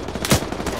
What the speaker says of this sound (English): And we are getting shot at us.